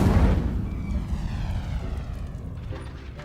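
Incendio fire spell cast in a Harry Potter video game: a loud, close whooshing roar of flame that bursts at once and then slowly fades, with no voices.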